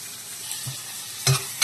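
Onions, dried red chillies and green chillies frying in a pan for tomato curry, a soft close sizzle broken by two brief louder crackling bursts as ingredients hit the hot oil, with no talking.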